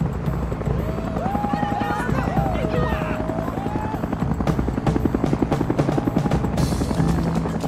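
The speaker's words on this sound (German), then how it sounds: "Nee, ein Hubschrauber." Helicopter in The Sims: Island Stories, a steady whirring rotor drone held loud throughout the stretch, with game music tones and voices talking over it.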